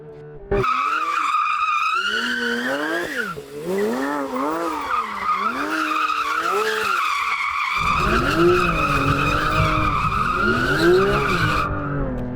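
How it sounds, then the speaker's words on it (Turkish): A Porsche 911 squeals its tires while warming them, a loud, sustained wavering screech that rises and falls in pitch over the car's engine, continuous for most of the stretch with no talking. "Şimdi 911'in lastiklerini ısıtalım."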